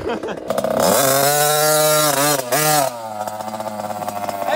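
A loud motorcycle engine revs up sharply, holds a high whine, dips, then settles into a rough idle; no one speaks over it.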